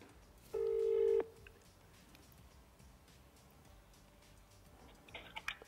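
A phone call begins with a brief steady tone lasting about half a second, followed by quiet line hiss and then faint clicking and ringing near the end, with no one talking.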